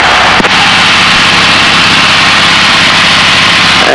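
A light training airplane's piston engine under power in flight: a loud, steady drone that fills the whole stretch, with a short click near the start and no talking.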